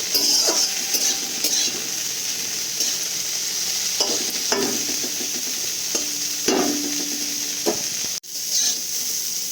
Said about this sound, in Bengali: ব্রকলিগুলো হালকা তেলে একটু ভেজে নেব, খুব বেশি ভাজবো না।